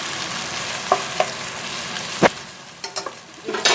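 Indian-style masala pasta sizzles gently in a frying pan while a spoon stirs it, giving a few distinct scraping clacks against the pan over a low steady fry. No one talks.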